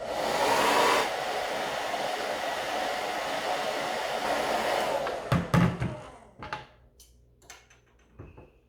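A heat gun blows a steady, loud whoosh for about five seconds while warming the adhesive under longboard grip tape, then cuts off, leaving scattered clicks and light handling knocks.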